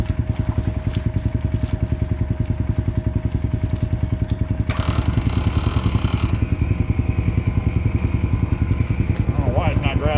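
A flooded Jeep engine struggles to run, chugging in a rapid, uneven putter that stays loud and close, with a brief rising whine midway and faint voices in the background.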